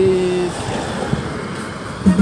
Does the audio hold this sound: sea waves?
yes